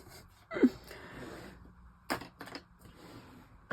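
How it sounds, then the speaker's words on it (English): Ribbon scissors snip through twine at a craft table, a few close, crisp clicks and cuts separated by short pauses in a quiet room. "I'm just going to snip this off"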